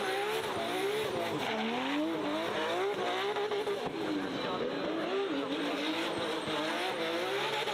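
A Mazda RX7 drift car with a four-rotor engine howls and wails as its tires squeal through a sustained skid at Goodwood Festival, engine pitch rising and falling continuously, loud and close, with some voices faintly underneath.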